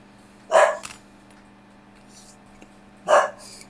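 A dog barks twice, a few seconds apart, with sharp, fairly close barks over a faint steady hum.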